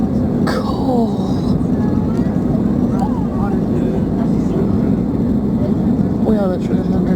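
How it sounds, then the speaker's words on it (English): A plane lands right in the middle of a city, heard from inside the cabin as a loud, steady engine and air roar with rising and falling whines throughout, and no clear voices. "We are literally landing right in the middle of the city."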